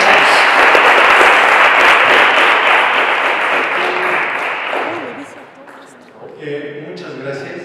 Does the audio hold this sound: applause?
yes